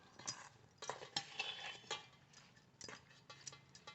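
Mango avakai pickle being stirred with oil in a bowl, a run of soft scraping and clinking strokes from a spoon, close and fairly quiet, with no talk.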